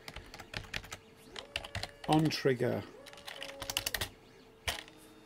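Quick bursts of clicky typing on a computer keyboard, uneven and close, with a voice speaking briefly in between the key presses.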